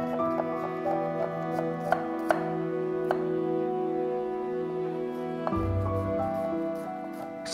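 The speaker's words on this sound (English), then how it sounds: "Three pieces of garlic, finely chopped." Garlic finely chopped on a board for an eggplant masala: a few sparse, light knife taps under sustained tonal background music, with no speech.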